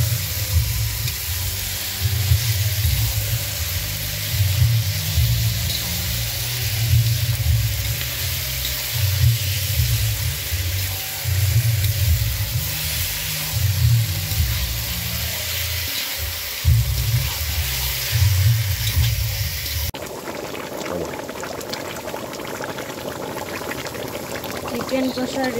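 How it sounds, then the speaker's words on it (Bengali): Marinated chicken for chicken biryani going into a hot kadai with spices, a continuous sizzle and bubbling with stirring scrapes, then a sharp change to a brighter hiss near the end, voice present but not prominent. "মশলা কষিয়ে নিয়েছি, নিয়ে মাখানো মাংসটাকে কড়াইয়ের মধ্যে ঢেলে দিচ্ছি"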